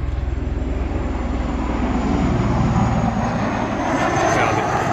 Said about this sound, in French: il y a un hélicoptère qui est en train de passer.